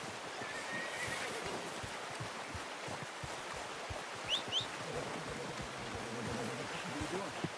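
A horse neighs in the video game Red Dead Redemption 2, a short whinny rising midway over a background of flowing water, soft hoof clops and distant birds.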